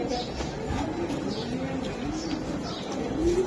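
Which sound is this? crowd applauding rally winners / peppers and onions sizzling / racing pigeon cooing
racing pigeon cooing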